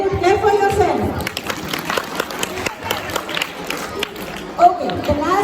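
Schoolchildren at a Children's Day celebration clap for themselves, a loose burst of clapping mixed with excited young voices and chatter, rising again briefly near the end.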